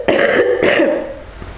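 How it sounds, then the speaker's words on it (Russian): A person coughs twice in quick succession, close and loud, with a brief throat-clearing rasp trailing off afterward, alone with no talk. "Просто сейчас я покашляю"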